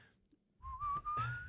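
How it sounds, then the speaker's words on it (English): A person whistles a short, rising tune, a clear tone that slides upward over about a second with a brief break, close and fairly quiet. "That's why I did the whistle."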